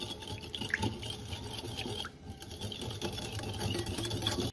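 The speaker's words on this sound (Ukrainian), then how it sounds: "Все гарно перемішуємо до однорідності." Dough ingredients with sour cream and vodka are mixed by a whirring electric mixer, giving a faint, steady buzzing drone with no speech.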